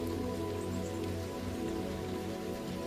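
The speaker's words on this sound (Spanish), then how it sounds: "Así que decides dejar la lluvia caer" Steady rain pattering on a surface, a dense even hiss of drops with a low rumble beneath, continuous and fairly close, with no voices.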